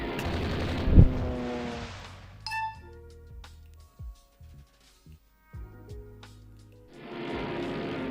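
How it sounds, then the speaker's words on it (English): Naval combat in the Rule the Waves 3 game, an Ottoman fleet campaign: a heavy explosion thud rings out, followed by scattered detonations, sharp impacts and tonal effects. Broad rumbling booms return toward the end. "Another torpedo hit! It's another torpedo hit!"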